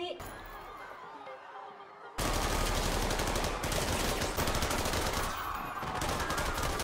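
A firing squad in a film suddenly opens fire after a quiet stretch with faint voices. The rapid sustained volleys of gunfire are loud and dense and continue steadily to the end.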